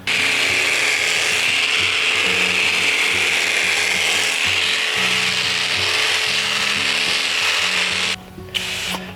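Electric shearing blades, heavily oiled, buzz and chatter through alpaca fleece in a continuous loud close drone with rhythmic mechanical rattling, briefly stopping near the end.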